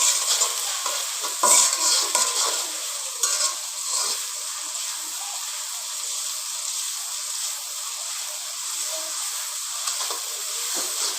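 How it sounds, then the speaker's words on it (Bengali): Onion, garlic and green chilli with salt fry in mustard oil, giving a steady close sizzle and hiss with scraping stirring strokes, louder in the opening seconds and then settling into an even crackle. "তো এখানে পেঁয়াজ রসুন আর কাঁচামরিচ দিয়ে দিচ্ছি, লবণটাও দিয়ে দিচ্ছি। তো সরিষার তেল দিয়ে ভেজে নিচ্ছি"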